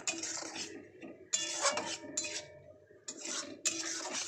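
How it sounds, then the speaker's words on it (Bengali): Spice paste being stirred and fried in a pan, with bursts of scraping spatula strokes and hissing sizzle in short repeated sweeps, separated by brief quieter gaps. "এটাকে এবার ভালো করে কষাবো।"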